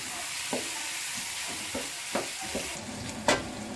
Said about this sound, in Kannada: ಆನಿಯನ್ ಎಲ್ಲ ಚೆನ್ನಾಗಿ ರೋಸ್ಟ್ ಆಗ್ತಾ ಇದೆ